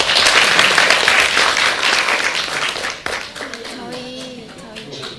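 Audience applause opens a debate session at a Daegu civic forum, loud dense clapping for about three seconds, then fading as a voice begins speaking over the tail of the clapping.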